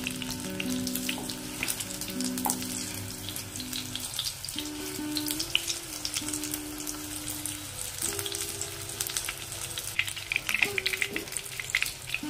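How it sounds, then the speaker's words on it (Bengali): Pumpkin flower fritters frying slowly in hot oil over a lowered gas flame, a loud, steady crackling sizzle that runs throughout at close range, with a low hum beneath it and no voices. "তারপর বড়াগুলো ধীরে ধীরে ভাজলে বড়া অনেক মুচমুচে হয়।"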